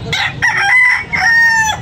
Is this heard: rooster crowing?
yes